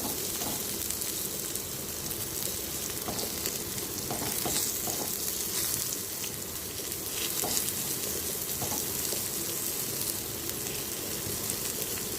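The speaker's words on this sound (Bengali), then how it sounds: "দেখো উচ্ছে ভাজাটা অলরেডি হয়ে গেছে।" Bitter gourd slices fry in oil in a pan, giving a steady, close sizzle with light crackles and occasional stirring clicks, continuous throughout with no talking.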